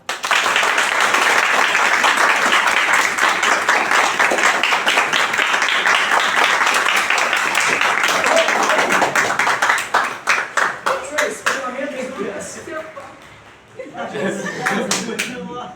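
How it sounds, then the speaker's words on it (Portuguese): Loud, dense clapping from students in a classroom, mixed with some laughter, continues for about ten seconds before thinning out as a voice begins speaking. "Vamos aplaudir Jesus, faz um favor?"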